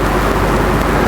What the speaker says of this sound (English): as they come around again to complete lap 8